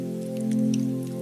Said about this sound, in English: Outside, rain continues its gentle work.